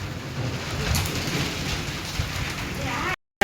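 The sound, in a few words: heavy rain during cyclone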